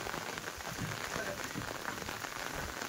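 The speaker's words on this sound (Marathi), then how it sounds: "पाऊस पडायला" Steady rain falls at Samangadh hill fort in Kolhapur, a continuous even patter of drops on surfaces throughout, moderately quiet with no talking.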